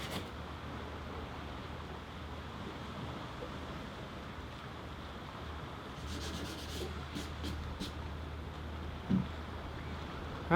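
Sandpaper rubs along the cut edges of wooden boat battens aboard a boat. The scraping is faint and steady, with a soft watery background throughout.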